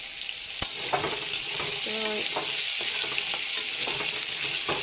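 Salted potatoes for aloo dum fry in a pan, a close, steady sizzle broken by clinks and scraping stirs, with one short spoken word near the start.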